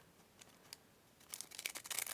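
Scissors snipping through paper to cut out a tag shape, a few soft isolated snips followed by a quicker burst of crisp close cuts, faint and with no talking.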